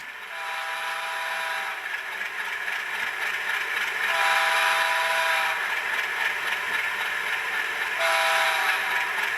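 An HO scale Rapido FPA2u model locomotive's Doppler horn sounds in repeated blasts, steady and tonal with a layered chord quality, over a constant mechanical hum, close and loud.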